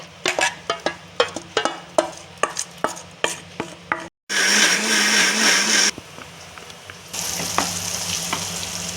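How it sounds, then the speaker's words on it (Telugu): Kitchen sounds of knocking and chopping give way to a mixer grinder blending warmed tamarind pulp into a smooth paste, running in two loud continuous whirring bursts with a brief pause between them. "మనము వేడి చేసుకున్న చింతపండు గుజ్జు అనేది దీన్ని మిక్సీకి వేసుకుని నున్నగా చేసుకోవాలి"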